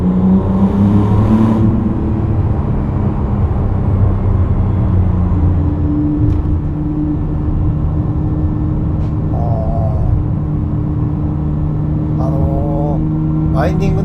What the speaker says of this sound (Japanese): スポーツモードもちょっとね踏んであげただけなんですけど、エキゾーストの音いい音してますね。